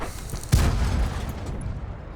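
A single loud tank cannon shot, a 57 mm gun in a video game, with a deep boom, followed by a rumbling decay and steady background noise.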